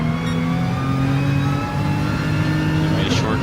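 A race car in GT Sport pulls away under acceleration, its mid-pitched engine droning loud and steady with a shift-like dip partway through, and a voice talks over it.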